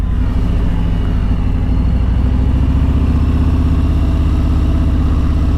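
A Harley-Davidson Road Glide motorcycle rolls slowly through a roundabout in low gear, its engine giving a steady, loud, deep rumble that holds unbroken throughout with no voices.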